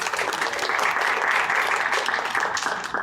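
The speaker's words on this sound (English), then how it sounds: "Let's give a round of applause to you for showing up and these actors for coming out the cold." Steady, full applause from a theater audience at a new play festival on a snowy night, a dense wash of clapping that holds evenly throughout.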